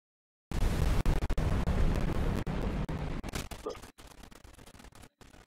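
A bomb dropped by air support in the War Thunder combat game, a loud sustained rumbling blast with crackling debris that fades out in a few seconds, with no talk over it.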